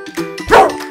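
Cartoon dog giving two quick, close yipping barks, the second louder and brighter, alone and very brief.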